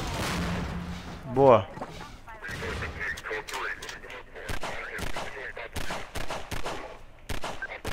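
Rapid gunshots crack repeatedly in Half-Life 2, sharp bursts scattered through the stretch alongside someone talking over the action.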